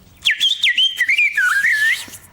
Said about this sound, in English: if you do teeth whistling, you claw the tongue back like that against the tooth